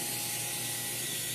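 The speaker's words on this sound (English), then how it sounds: "we have to put some pan spray on these" Pan spray hisses in a steady, continuous burst from a close aerosol can, coating a tray of cinnamon rolls with no talk over it.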